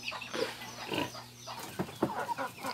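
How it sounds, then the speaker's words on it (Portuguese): Pigs on a farm eating breakfast, with soft grunts and snuffling bursts spread across a short stretch, moderately near and fairly quiet, a steady low hum underneath and a few livestock sounds mixed in. "Eles estão tomando café da manhã também."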